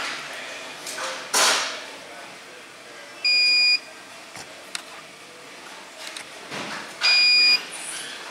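A UPS alarm on a fine screens control panel with a drive fault gives short steady electronic beeps, two clear tones several seconds apart, amid a quiet room with faint handling noises and a few knocks.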